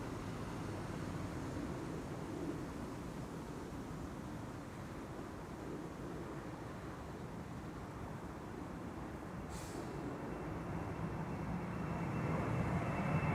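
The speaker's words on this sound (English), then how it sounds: "an Embraer to Bremen right now on the threshold coming this way" An Embraer airliner departs Schiphol runway 24, a distant low jet rumble that builds slowly and grows louder toward the end over faint outdoor ambience, with no voices.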